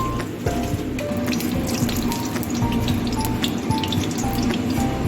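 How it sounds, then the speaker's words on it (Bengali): Water runs and splashes steadily as it is drained out of chopped leafy greens in a home kitchen, a continuous close pouring and trickling sound with small clinks. "জলটা বের করে দিলাম।"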